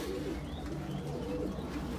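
Silver Gorra pigeons, a cock and his matching hen, coo in soft low rolling calls over a steady background murmur, close by and continuous for the whole moment.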